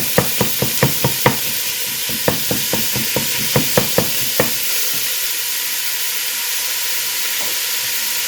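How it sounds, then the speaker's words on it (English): A pound of hamburger meat being chopped up in a pan, with sharp rhythmic taps of a utensil against the pan over a steady sizzle; the strikes come in quick bursts, then stop, leaving the frying hiss alone. "I have a pound of hamburger. I'll chop it up just a little bit."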